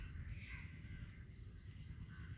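A crow caws faintly a few times over steady low background rumble, a thirsty crow by a water pot with no voices present.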